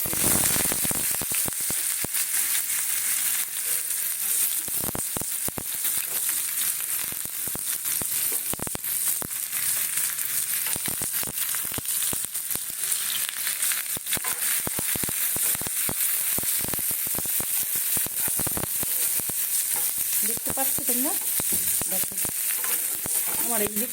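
Whole cumin seeds fry in hot oil in a loud, continuous sizzle broken by dense crackling pops, with faint stirring clinks toward the end.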